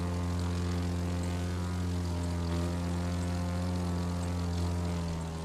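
Steady, loud drone of a propeller plane engine in the racing video game The Crew 2, with a constant low-pitched buzz and stacked harmonics holding even throughout, no talk.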